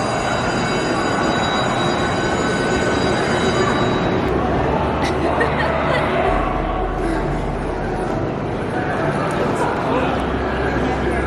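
A Chinese bullet train sits at a station, giving off a steady broad rumble and hum with faint high whines, while a person speaks over it.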